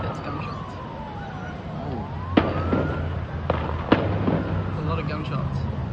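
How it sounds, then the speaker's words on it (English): Gunshots ring out during the Bondi Beach shooting in Sydney, three sharp cracks spaced a second or so apart amid a siren-like wail and crowd commotion, with voices in the background. "That's gunshots."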